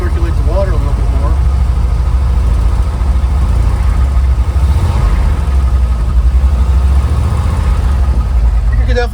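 A 1969 Chevy C30 truck engine runs rough and loud, a constant low mechanical rumble close by with slight rises as it is revved, while someone talks over it.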